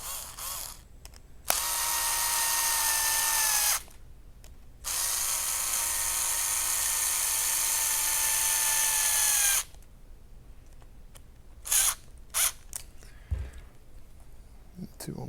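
A small electric drill whirs during an RC truck kit build, a TRX-4, in two close, steady runs of a few seconds each, followed by light clicks and tool handling.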